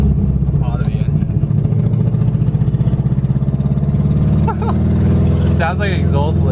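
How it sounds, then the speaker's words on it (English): Subaru WRX GC8 engine with an exhaust leak idling loudly, its rough, throbbing burble steady and close, with a brief dip near the end; people talk over it in places. "It sounds like an exhaust leak."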